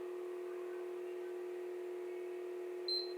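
A PlayStation 3 console gives a single short, high beep near the end while its power button is held, rising above a constant low electrical hum. The beep is clear but brief, with no speech.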